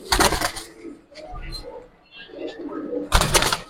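Military pigeons coo softly in low, rolling calls near the listener, with a couple of loud fluttering bursts and people talking nearby.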